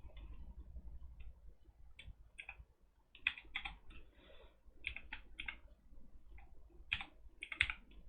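Keystrokes on a computer keyboard, clattering in irregular bursts of several quick clicks with short pauses between them, moderately close in a quiet room with no talking.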